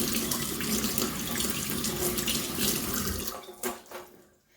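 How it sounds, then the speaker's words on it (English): Tap water pours over silicone suction cups at a sink in a close, steady splashing stream, then is shut off, leaving a few final drips and splashes before quiet. "Just get it under the running water and run your finger over it."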